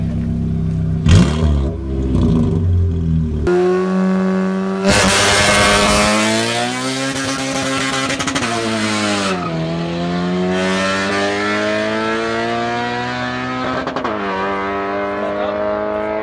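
Drag race cars at a 2018 drag race event in Peshawar, Pakistan, loud and close, with engines revving hard, rising and falling in pitch, and long roaring tire burnouts over sustained engine noise.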